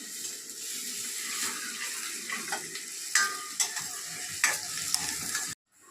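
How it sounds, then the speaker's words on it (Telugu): Onions sizzle in a pan for a mutton curry while being stirred, a moderate hiss with scattered scraping clicks and clinks of the utensil, cutting off abruptly just before the end. "ఇదిగోండి ఉల్లిపాయ వేగింది కదా"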